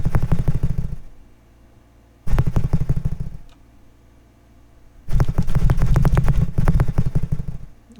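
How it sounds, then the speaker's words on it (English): A simulated engine in Engine Sim cranking and failing to turn over, with three loud rattling bursts of rapid chugging pulses separated by pauses of quiet hum. "I've used 3 cents of gas just trying to turn the engine over"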